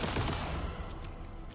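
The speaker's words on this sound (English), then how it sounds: "I went crazy with the bullets there." Rapid bursts of gunfire from a gun in the video game Alan Wake 2, loud and dense at the start then continuing in a sustained, slightly thinning barrage with no talk.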